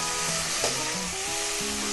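Chopped tomatoes hiss and crackle as they are stirred into softened onions in a hot frying pan for a chicken gravy: a loud, steady sizzle with an occasional scrape of the spoon, and no voices.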